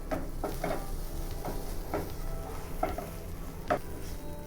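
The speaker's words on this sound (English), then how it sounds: "We are cooking right now on the lower flame so that our onion won't get burned." Onion fries gently in a pan over a low flame, a soft low sizzle broken by light scraping strokes of a stirring utensil, with a few sharper clicks against the pan, close and fairly quiet.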